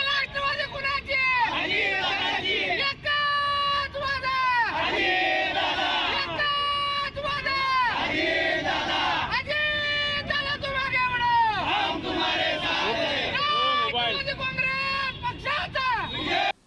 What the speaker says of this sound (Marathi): घोषणा देण्यात आल्या।